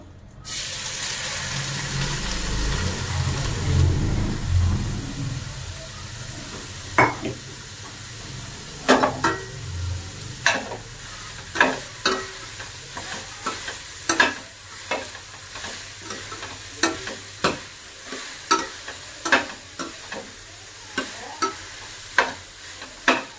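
Chopped onions frying in a pan for stuffed bitter gourd, a steady sizzle with repeated sharp clacks of a spoon stirring and scraping the pan, close and prominent with no talking.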